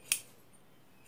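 Scissors snip cloth for a bag in a single short, crisp cut near the start, close and fairly quiet, followed by near silence.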